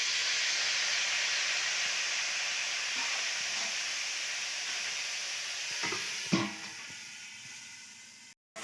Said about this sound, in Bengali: অল্প জল দিয়ে এটাকে ভেজে দেবো।